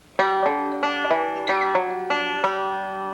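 A bluegrass banjo plays a lead-in lick with pickup and filler notes, several crisp plucked attacks in an uneven rhythm over ringing sustained strings, close and clear with no talking.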